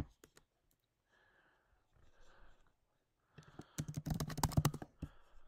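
Someone types on a computer keyboard in short bursts of clicks, sparse at first and then building into a dense, fast flurry of keystrokes near the end.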